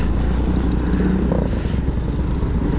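Motorcycles run along a flooded road in Pangasinan after the Sta. Barbara dam failure, giving a steady, close engine drone with a brief rise in intensity partway through and no talking.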